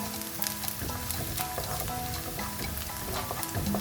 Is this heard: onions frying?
yes